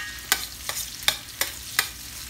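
Scotch bonnet pepper and aromatics cook in a pan under a faint, steady sizzle, broken by five sharp, evenly spaced clicks or taps of a utensil against the pan.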